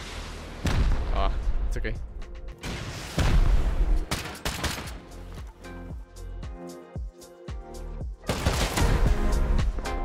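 Rocket launches and gunfire in the survival game Rust during a base siege, with repeated heavy booming blasts and bursts of shots, loud and close, and someone briefly speaking.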